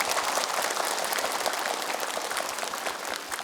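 A studio audience of women at a televised Islamic talk show applauds continuously, producing a dense, even wash of clapping that stays steady throughout with no speech on top.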